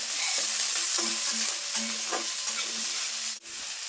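Onion, ginger, green chilli and chopped tomato frying in a pan for poha pulao, a continuous sizzle broken by repeated spatula scrapes and taps, close and without speech.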